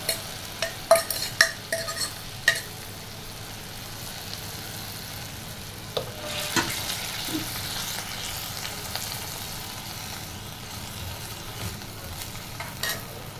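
Potatoes fry in hot oil with a soft, continuous sizzle, broken by a few sharp utensil clinks and stirring knocks early on and a brief louder burst of frying midway.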